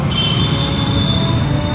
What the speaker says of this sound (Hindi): और ये रही ऊपर की मेट्रो लाइन.